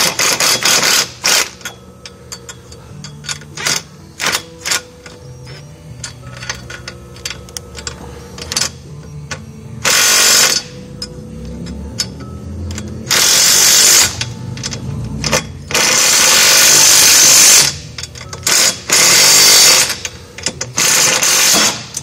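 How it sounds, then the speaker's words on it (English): A power tool tightens a U-bolt on a Honda Rubicon winch mount, firing in rapid rattling bursts of varying length with short pauses and clicks between them, close and loud. "I actually was tightening down the U-bolt on the left hand side"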